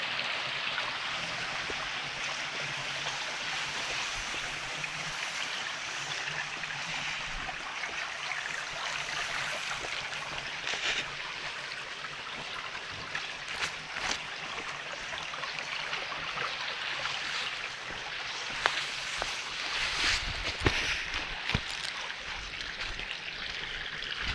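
A flooded river rushes steadily in a continuous, soft wash nearby in Kaniv, Ukraine, with a few faint knocks and splashes.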